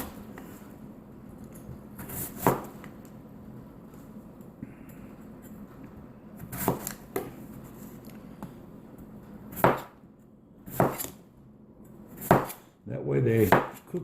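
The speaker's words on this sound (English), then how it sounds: "Some of these longer ones I will cut in half again." Knife chopping potatoes for green chili stew on a cutting board, scattered sharp thuds, some single and some in quick pairs, with quiet gaps between, close up, no talking.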